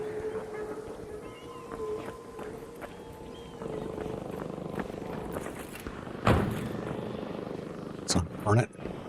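A Hornet drone in Arc Raiders buzzes with a wavering, droning hum beneath a voice talking, while sharp gunfire-like bursts and impacts break in toward the end.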